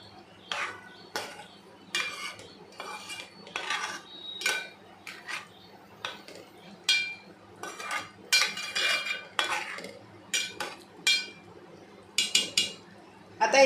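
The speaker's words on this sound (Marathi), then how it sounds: "आणि पुन्हा चांगले हलवून घेऊया." Metal spoon stirring a Bombay duck fish curry in a pot, with a steady run of sharp clinks and scrapes against the metal throughout, close and fairly loud.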